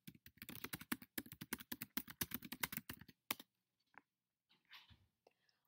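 Rapid keyboard typing, a dense run of close, crisp key clicks for about three seconds, then a few scattered taps and soft clicks, as when entering words into a search bar.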